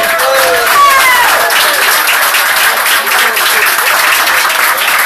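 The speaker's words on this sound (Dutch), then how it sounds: "Een heel groot applaus van me." Audience applause in a hall, loud and dense sustained clapping from a large crowd throughout, with a brief cheer or whistle near the start and voices mixed into the din.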